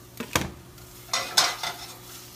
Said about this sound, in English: Just give that a little shake.